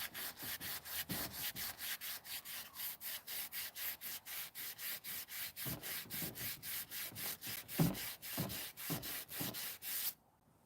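BBK exhaust headers are hand-sanded with sandpaper in quick regular back-and-forth strokes, a rhythmic close rasping that runs about ten seconds and then stops, with no talk.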